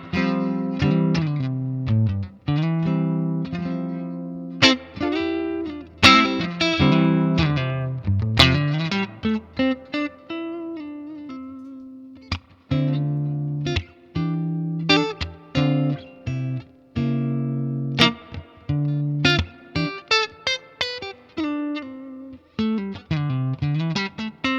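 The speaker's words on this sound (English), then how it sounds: "So this is my guitar, just going straight to the amp." An electric guitar plugged straight into an amp with no pedals engaged, only the amp's own reverb, plays clean single notes and bends in uneven phrases with short gaps, close and clear with no talking.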